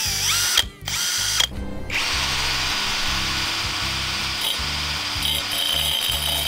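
An electric drill fitted with a grinder disc attempts a cutting job, whining steadily with a couple of abrupt stops and restarts early on, then running continuously with rough grinding contact, close and alone without speech.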